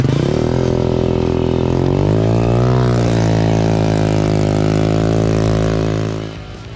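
A scooter engine converted into an airplane runs loudly and close, its buzzing tone rising in pitch as it revs, then holding a steady drone before dropping away and fading near the end.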